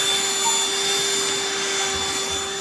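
A Black+Decker Dustbuster cordless handheld car vacuum runs steadily at close range, a loud, constant whine with a strong sustained tone and no speech.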